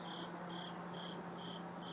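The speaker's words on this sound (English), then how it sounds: "There are crickets. Because we're outside." Crickets chirp outdoors in regular, evenly spaced high-pitched pulses over a faint, steady background hiss.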